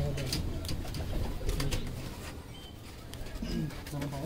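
Kept hobby pigeons coo in low, wavering rolls, several calls overlapping against a steady hiss of background noise and occasional sharper rustles nearby.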